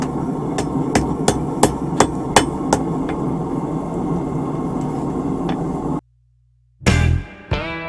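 A smith hammers a small horseshoe straight on an anvil while forging it, with a quick series of sharp, ringing metallic strikes over steady background noise, then a brief pause before one louder, heavier blow.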